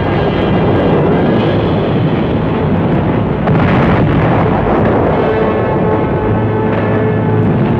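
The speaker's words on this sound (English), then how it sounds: "the deadly B-1, a small pilotless jet aircraft which had begun to fall on England in the middle of June" A German V-1 pilotless jet flying bomb passes overhead in wartime, a loud, continuous rushing roar that fills the whole stretch and swells slightly midway, with no voices.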